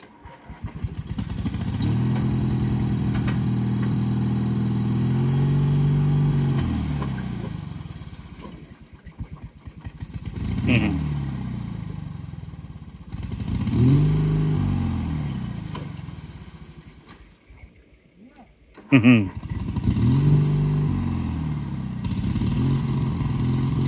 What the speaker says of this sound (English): let's see if old Mighty Max will get this log skidding